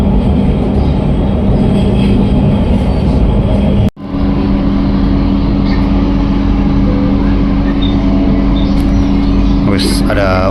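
An LRT Jabodebek light rail train riding on its tracks, producing a loud, constant interior rumble and hum with a brief dip partway through, while people talk over it.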